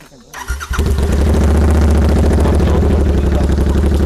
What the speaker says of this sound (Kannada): ಡಬಲ್ ಎಕ್ಸಾಸ್ಟ್, ಇದು ಶಾರ್ಟ್ ಕ್ಯಾನ್ ಎಕ್ಸಾಸ್ಟು, ಎರಡು ಕಡೆ ಇದೆ